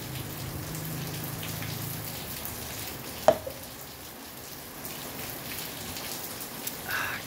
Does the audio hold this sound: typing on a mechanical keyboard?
no